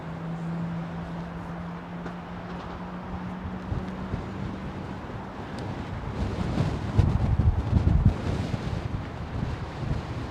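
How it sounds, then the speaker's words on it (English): An Egypt Air Airbus A330-200 at London Heathrow Airport starts its engines, giving a steady low rumble with a droning tone, then a broad roar that builds and swells toward the end, heard from outside with wind buffeting the microphone. "Egypt Air firing up his engines."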